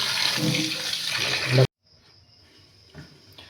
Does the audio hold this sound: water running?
yes